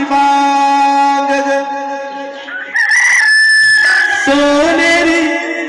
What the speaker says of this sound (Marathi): कोंबड्याची बांग